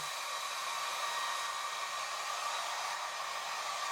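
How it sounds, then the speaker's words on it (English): A hair dryer blows steady, close and loud across a watercolour kitten painting to dry the wet paint, a continuous airy whoosh with no pauses or talk. "take my dryer"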